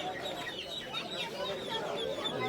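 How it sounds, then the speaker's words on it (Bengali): Chickens cluck amid the busy hubbub of a crowded duck and chicken market at Ati Bazar in Keraniganj, with steady crowd chatter and people talking throughout. "এখানে দেখতে পাচ্ছেন মুরগি বিক্রি হচ্ছে।"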